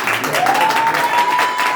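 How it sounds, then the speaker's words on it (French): Audience applause for a woman named Marcia at a Gabonese diaspora gathering, a steady wash of clapping throughout with a voice and a sustained tone riding over it. "Un applaudissement pour Marcia, s'il vous plaît."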